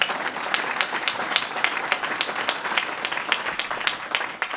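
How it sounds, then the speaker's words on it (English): Audience at a Boston Police luncheon applauding officers, a dense, even patter of many hands clapping at moderate distance, steady for several seconds with no speech. "please give them a big round of applause."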